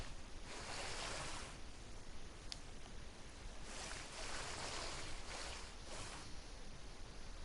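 Water and surf-like wash from the park-building video game Jurassic World Evolution, a steady, soft rushing ambience that swells and recedes gently, with no talk.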